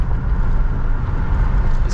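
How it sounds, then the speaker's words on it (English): A 1982 Mercury Cougar XR7 is driven down a road, its engine and road noise a steady low rumble heard from inside the car. "Jumping in this car and taking it for a test drive down the road."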